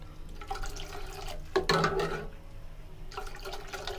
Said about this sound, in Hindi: और अब मैं इसे इतना पका लूंगा कि 2 कप से ये आधा कप तक रह जाए, इतना इसे मैं पकाऊंगा मीडियम फ्लेम पर। और इसी तरीके से मुसलसल फेंटूंगा।